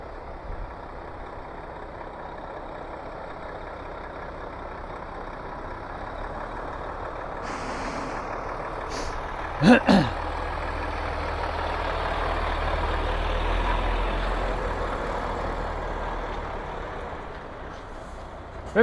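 A truck and trailer manoeuvring in reverse to couple the trailer onto the unit, heard from outside as a steady low engine rumble with a sharp air-brake hiss near the middle and faint reversing beeps.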